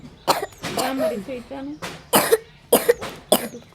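Several sharp coughs in a row, close by, mixed with a few short voiced sounds between bursts.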